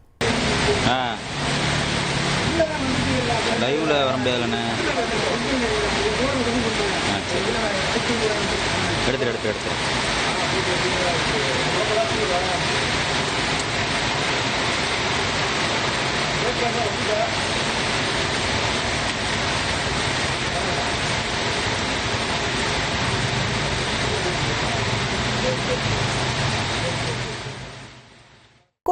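Heavy, steady rain pouring in Thiruvananthapuram with water flooding along the roads, a dense continuous wash of rainfall and running water, with a brief voice and some vehicle noise near the start.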